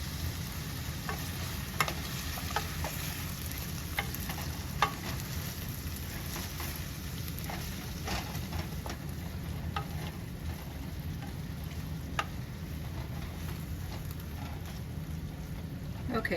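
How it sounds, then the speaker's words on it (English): Chicken and Rotel simmer in a pan over lowered heat, giving a soft, steady sizzle with scattered small pops and crackles. It stays fairly faint throughout, with no talking. "just let the Rotel simmer, heat through and through."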